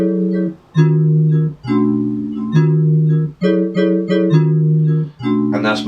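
A grime instrumental made by converting a MIDI track to audio and chopping it, with fades added, plays as a sequence of short, evenly clipped synth chord stabs in a steady rhythm, loud and alone, with one bright burst closing it.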